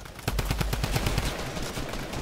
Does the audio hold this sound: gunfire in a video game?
yes